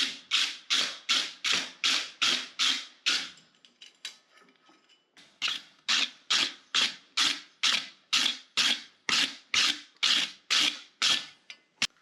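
Steady rhythmic scraping of a stiff brush over a freshly forged steel hammer head, about a dozen quick strokes, a short pause, then another fast run of strokes, close and fairly loud.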